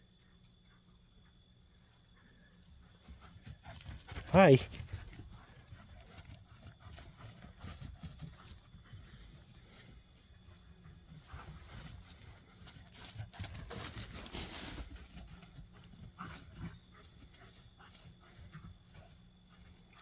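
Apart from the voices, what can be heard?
crickets chirping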